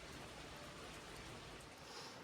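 Steady rain falls on a rainy day, a dense, even hiss of drops hitting surfaces with no gaps or voices, constant and close throughout.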